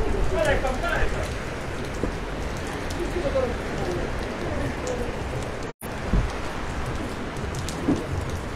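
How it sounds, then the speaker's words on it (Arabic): Heavy rain pours steadily outdoors on a damaged road in Morocco, a dense, loud continuous hiss with faint voices underneath and a brief dropout near the end. "الشتا كانت مجهدة اليوم، نجي عندك نتايا، الشتا كانت اليوم مجهدة اخويا"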